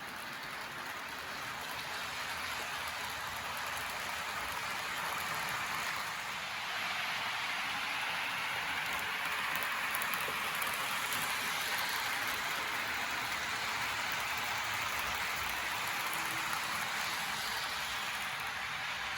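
A Kato HO scale ALCO RSC-2 model locomotive runs with coupled cars, giving a steady, faint motor whir with a high gear whistle that holds throughout.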